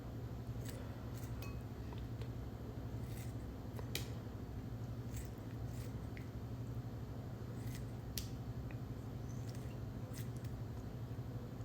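Lobster meat being cut off the shell, heard as a series of sharp, irregular snips and clicks close by over a steady low kitchen hum, with no talking.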